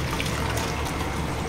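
Cooked mutton tipped from a pot into a tadka pan in a home kitchen, a brief, continuous wet pouring and sloshing sound, close and steady.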